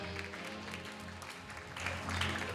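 An audience at a Miss World / Miss Universe Bulgaria 2022 pageant applauds dancers Magdalena and Stefan, a faint, steady patter of clapping beneath sustained music.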